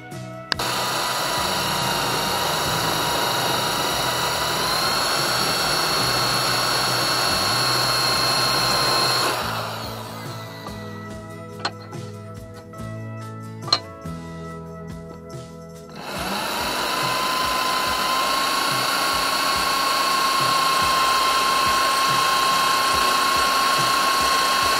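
Power tool cutting and drilling for a homemade bicycle rack, a loud continuous whine at the start and end with a quieter broken stretch of clicks and knocks in the middle.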